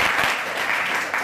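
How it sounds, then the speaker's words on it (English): Steady audience applause fills the room at a literary anthology publication celebration, a dense wash of many hands clapping at full strength with no pauses. "Let's welcome a nice round of applause."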